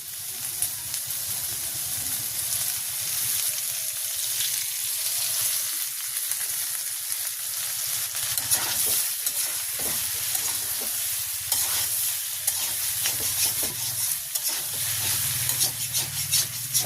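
Water taro (panikochu) frying in oil with turmeric, a loud, continuous sizzle and crackle with occasional stirring scrapes, steady throughout and free of speech.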